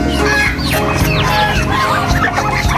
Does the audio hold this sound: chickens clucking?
yes